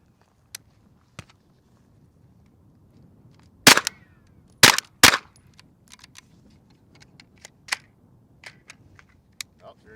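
A B&T TP9 fires its first rounds, with a few sharp, loud shots clustered together, followed by scattered fainter clicks and knocks at an outdoor range.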